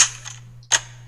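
Gunfire from the Free Fire shooting game comes through voice chat: two sharp, loud cracks, the second following a short pause, with no talking.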